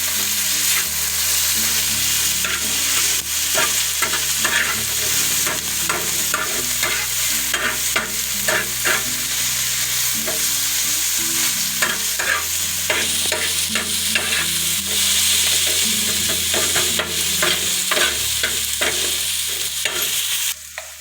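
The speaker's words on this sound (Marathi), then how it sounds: "इथे लाल मिरची मसाला पावडर चवीनुसार मीठ थोडीशी हळद हे सर्व मिक्स करून घ्यायचं आहे" Onion-tomato chutney being stirred with chili powder, salt and turmeric, giving steady scraping and soft sizzling with repeated spoon strokes against the pan, close and continuous with no talking.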